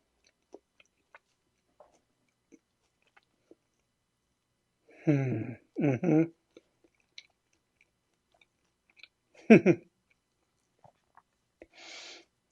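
Someone eats a quinoa Dijon burger with a crisp pan-fried crust, producing a few short, close bursts of soft crunching and chewing in a quiet room, followed by a brief breathy sound.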